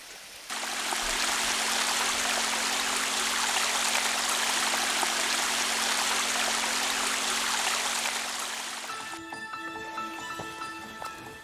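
A cold, clear mountain stream rushes steadily and loudly in the Minjujisan area of Yeongdong, North Chungcheong, a dense broadband flow that holds for about eight seconds before cutting to quieter ambience with faint tonal sounds.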